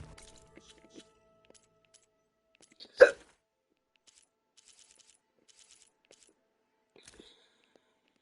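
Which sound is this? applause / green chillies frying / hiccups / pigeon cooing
hiccups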